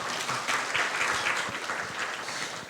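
Audience applause at a Korean film forum as a speaker is welcomed to the stage, a dense, fairly close burst of many hands clapping that holds steady for a few seconds.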